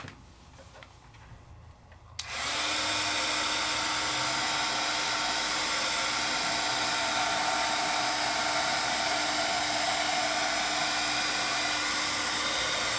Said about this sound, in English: I can take a heat tool